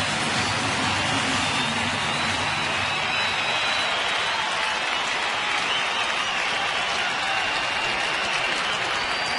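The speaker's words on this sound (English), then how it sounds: "Very lively crowd here at US Cellular Field tonight" Lively baseball crowd at US Cellular Field during a Twins at White Sox night game, a steady dense roar of cheering and applause throughout, loud and continuous with no clear voices standing out.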